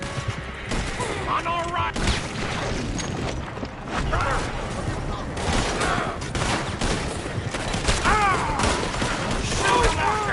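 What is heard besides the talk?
gunfire in Red Dead Redemption 2 video game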